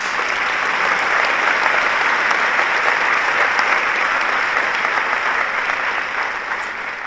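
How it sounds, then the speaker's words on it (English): A commencement ceremony audience gives athletes a long, loud, sustained round of applause, a thick, even roar of many hands that eases only slightly toward the end. "Let's give them another well-earned round of applause"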